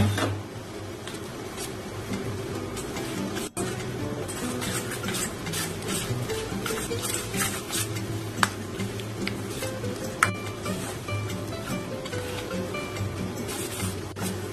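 Gram flour batter for coriander vadi is mixed by hand in a bowl, giving a steady wet, gloopy stirring texture with a few sharp clicks of a spoon against the vessel.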